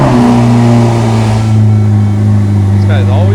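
A car engine starts and revs in a garage, giving a loud, strong droning hum with steady low tones that settles into a smoother idle after about a second and a half.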